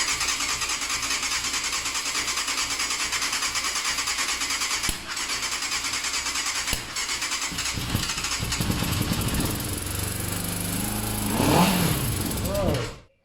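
A barn-find 1990 Yamaha FZR600 motorcycle engine idles steadily and close, then revs up with a few rising, throaty blips before cutting off abruptly.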